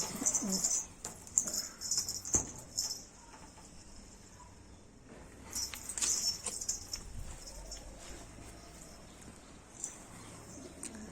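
Pigeons in a loft coo softly now and then amid faint rustling, wing flutters and scattered knocks, quiet and close.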